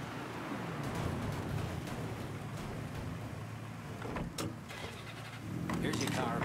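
A car in the Mafia III video game arrives and idles with a steady engine rumble, broadband and continuous throughout, with brief clicks and a swell in level near the end.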